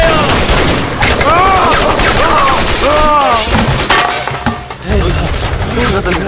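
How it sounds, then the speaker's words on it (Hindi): Gunfire crackles through a tense Hindi film scene: loud, dense bursts of shots with booms and debris, mixed with shouting voices and wavering tones throughout. "ये गोली की आवाज।"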